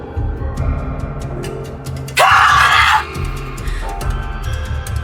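A woman screams in a dramatic scene, one loud sustained cry lasting under a second over a low music and ambience bed.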